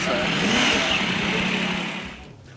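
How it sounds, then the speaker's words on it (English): The all-new engine of a 2015 Yamaha YZF R1 motorcycle roars loud and close with a rough, broadband rasp, holding steady then dropping off as the revs fall. "This is the all-new engine of the 2015 Yamaha R1."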